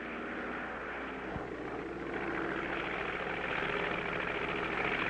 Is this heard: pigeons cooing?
no